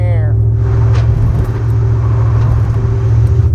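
A truck's rear end whines steadily while coasting, a constant tone under loud road rumble from inside the cab.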